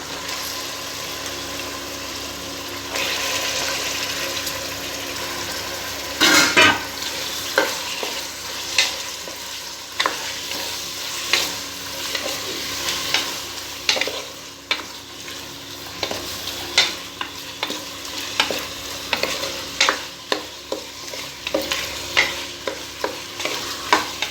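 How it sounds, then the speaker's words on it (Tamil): Chicken sautés in a pan with a continuous loud sizzle, and a spoon scrapes and stirs in frequent uneven strokes that grow busier toward the end. "இப்போ நம்ம சிக்கனை உள்ளே சேர்த்துட்டு நல்லா வதக்கிக்கலாம்."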